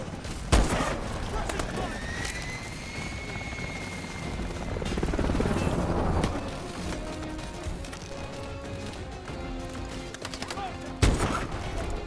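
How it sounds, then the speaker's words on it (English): Helicopters approach in the Call of Duty: Advanced Warfare video game, a rotor drone thudding beneath bursts of gunfire and explosions, with a brief voice over the mix. "Pilot's choppers inbound."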